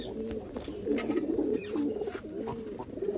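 A red-eyed kasni kamangar pigeon coos close by in a low, rolling rhythm, with repeated soft warbling calls filling the short stretch and no speech.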